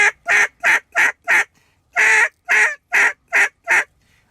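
A duck call blown loudly in a quick series of ten sharp, honking quacks, grouped in two runs of five with a short pause between them.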